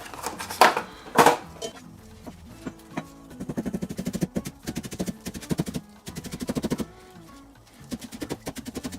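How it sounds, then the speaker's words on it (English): A knife chops chives on a cutting board in a home kitchen with quick rhythmic taps in clustered runs, preceded by a couple of louder knocks. "we're going to chop up the chives"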